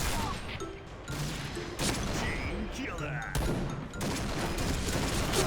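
Gunfire in the video game Point Blank, dense bursts of rapid shots and sharp impacts crowding together up close, with a player talking over the game sounds.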